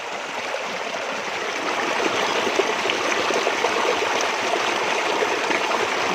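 A small stream of water flows steadily nearby, a continuous close rushing and trickling with no voices.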